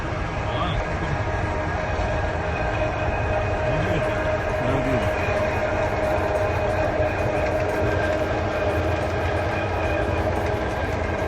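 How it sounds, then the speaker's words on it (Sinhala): A train rolls past at a steady, continuous roar with a humming engine tone, close and loud for the whole stretch without letting up. "කෝච්චි."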